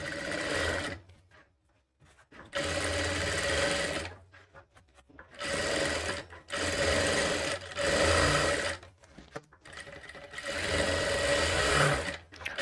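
Sewing machine running in repeated bursts while double stitching a katori blouse, each run a steady mechanical whir lasting a couple of seconds, separated by brief pauses, close and moderately loud with no voices.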